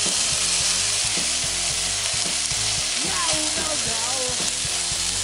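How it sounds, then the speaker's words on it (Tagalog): Bacon sizzling loudly in a hot frying pan, a dense continuous crackle with occasional scraping and clinks of a utensil moving the strips. "Ngayong mainit na po itong kawali, ilagay na po natin ng bacon."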